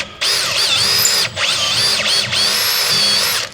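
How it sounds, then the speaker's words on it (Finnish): An electric drill boring out an old worn thread to make room for a helicoil insert. It whines loudly in three bursts, with short pauses where the motor briefly stops. "Eka sitten porataan vanha kierre pois"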